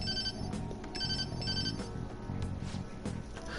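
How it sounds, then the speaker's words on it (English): A phone ringtone in the Persona 5 Royal video game, a short repeating electronic melody in evenly spaced bursts, moderately quiet over faint background game music. "I'm expecting a phone call"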